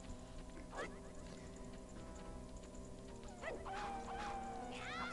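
The Wolfos enemy in Zelda: Majora's Mask gives short dog-like barks and yelps, a few separated cries rising over a steady game background hum and music.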